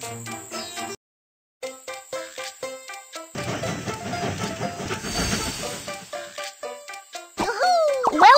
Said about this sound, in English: The train is about to start.